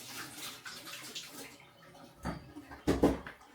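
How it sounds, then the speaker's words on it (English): Water runs from a tap over hands in a home kitchen, in two short splashy bursts that come and go with quiet pauses between, close by and moderately loud. "Wash my hands first"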